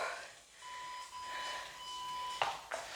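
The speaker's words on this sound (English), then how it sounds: "Buzzer's going crazy." A steady electronic tone with a higher partial sounds continuously for about two seconds, then cuts off into two short sharp clicks or knocks.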